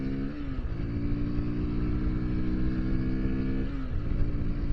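A Sinnis Terrain 125 Euro 5 motorcycle accelerates steadily, its small single-cylinder engine droning loud and close, rising in pitch with a gear change near the start and another toward the end.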